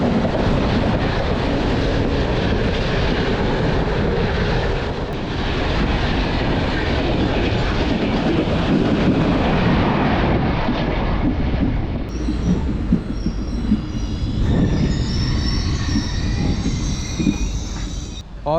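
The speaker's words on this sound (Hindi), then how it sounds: "कोरबा से विशाखापट्टनम जा रही कोरबा विशाखापट्टनम लिंक एक्सप्रेस से।" The Korba Visakhapatnam Link Express rolls past close by at an Indian railway station, a loud continuous roar of wheels and carriages with rhythmic clatter, easing off near the end as squealing wheels come through.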